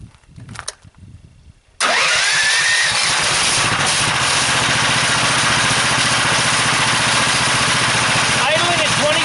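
A DC generator with a permanent-magnet alternator holding extra epoxy and magnets starts with a short crank, then settles into a steady, loud, close idle at 24 volts that runs on continuously.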